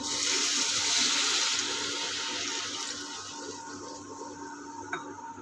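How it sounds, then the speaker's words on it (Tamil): Water pours steadily into a cooking pot of raw mango pachadi with a bright splashing rush that tapers off after a few seconds, followed by quieter trickling. "இப்போது இது வேகிறதுக்கு கொஞ்சம் தண்ணி சேர்த்துக்கலாங்க"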